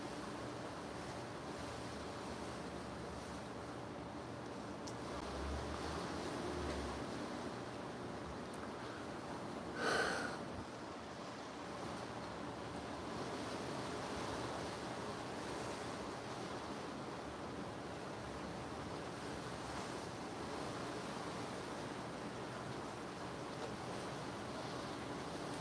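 Strong wind blowing outdoors, a steady broadband rush that holds for the whole stretch with slight gusting swells and a brief buffet near the middle, no talking.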